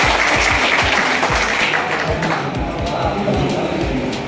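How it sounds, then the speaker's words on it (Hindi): Loud applause from an audience at a public speech in Deshnok, a thick rush of many people clapping with crowd noise, strong at first and easing a little toward the end. "एक बार जोरदार तालियां।"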